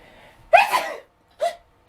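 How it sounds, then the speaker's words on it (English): A sharp sneeze bursts out close by, followed a moment later by a shorter second sneeze, then quiet. "Hold on, I might have to sneeze."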